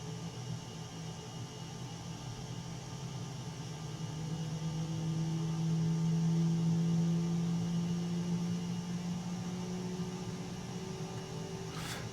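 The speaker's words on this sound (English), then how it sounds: "Start our other engine up here." An F/A-18 Super Hornet jet engine starting up in Microsoft Flight Simulator 2020, a low steady hum that swells in the middle as a rising whine builds and holds, heard alone without talk.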